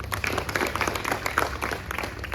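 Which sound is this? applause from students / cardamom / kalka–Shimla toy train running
applause from students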